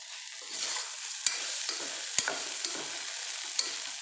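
Ingredients for brinjal dal fry in a pan with a steady, close hiss broken by a few sharp spatters and pops, with no voices.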